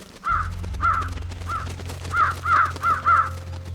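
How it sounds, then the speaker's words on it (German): Crows caw repeatedly, harsh calls in a loose irregular series, fairly close, over a steady low hum. "Hören die Vögel schon, gell?"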